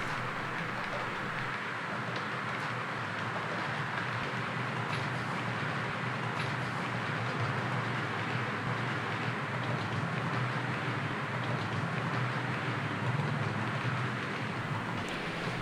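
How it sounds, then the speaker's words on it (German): A long H0 scale model ICE train runs past on a layout, giving a steady, even rolling rumble and rail hiss that holds at constant loudness for the whole stretch, with no voices. "einen schönen, langen ICE, den kann man hier eigentlich auch immer anschauen"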